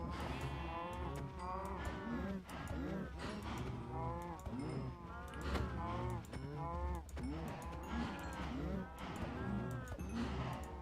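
Several Minecraft cows moo in overlapping, repeated calls throughout, loud and close, with a steady game and background bed beneath.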